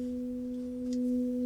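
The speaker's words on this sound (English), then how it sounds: "When you strike a bowl, you're hearing all the multiple tones at once." An antique singing bowl struck once, sustaining a steady low tone with a higher partial humming alongside it, ringing evenly and close without fading across the short span.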